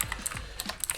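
Fingers type rapidly on a cheap gaming keyboard that has just been submerged in water and sprayed out, a close, dense run of plasticky key clicks with no voices.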